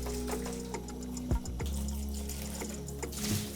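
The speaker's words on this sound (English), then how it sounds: "Let the clean water go through the tube to get the soapy water out." Clean water runs steadily through the tube of an enema bucket during rinsing, a continuous close trickle with small ticking and clinking sounds, no talking.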